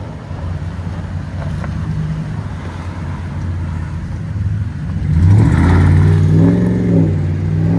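A 2016 RAM 1500 pickup with a 5.7L HEMI V8, Thrush muffler, stock resonators and 4-inch tips idles with a deep steady rumble, then revs hard around the fifth second, the pitch climbing and settling back into a throaty burble.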